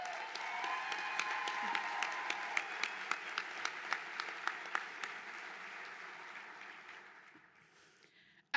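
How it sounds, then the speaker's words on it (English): An audience at a softball Hall of Fame induction ceremony breaks into applause, with crisp individual claps over a broad wash that swells and then fades out. "I'll give you a round of applause."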